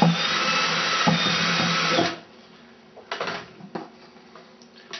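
A power drill with a step bit whirs steadily for about two seconds, then stops, followed by a few short bursts and clatter of the bit cutting a half-inch hole in a plastic bucket.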